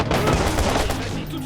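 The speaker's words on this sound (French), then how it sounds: "je me fais tirer dessus pendant ce temps" Rapid gunfire from a firefight in the video game Watch Dogs, a dense burst of shots filling the whole moment loudly with no pause.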